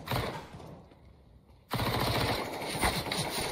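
Rapid automatic rifle fire in Counter-Strike: Global Offensive crackles in a dense burst, pauses briefly, then resumes as sustained loud volleys of shots.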